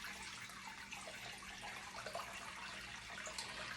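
Liquid poured during homemade mozzarella making, a faint, continuous trickling and splashing stream with small irregular spatters.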